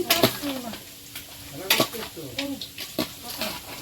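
Potato pieces frying in a pan at a home kitchen, with a soft steady sizzle under repeated scraping stirs and light clinks of utensil against metal; a faint voice murmurs in the background.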